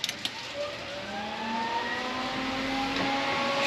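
Electric cooling fan on a 240Z with an RB20DET engine whirring up after the ignition is switched on, a steady rising hum with faint clicks at the start, alone and fairly quiet.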